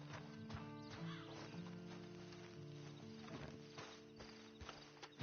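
In the video game Red Dead Redemption, a horse's hooves clip-clop in a steady rhythm close by, with a brief whinny among the footfalls.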